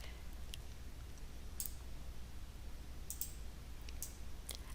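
Computer mouse clicks during work in a texturing program, several sharp isolated taps spaced irregularly over a quiet, faintly hissing background, close and fairly soft, with no talking.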